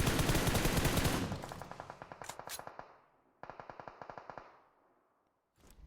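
Automatic gunfire in the mobile shooter BGMI: a loud, rapid burst of rounds trails off into echoing single shots, then after a brief gap a second rapid burst fires and fades, with another starting at the end.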